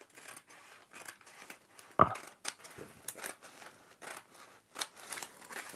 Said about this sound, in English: So I am just going to cut this out. And these are my old fabric scissors.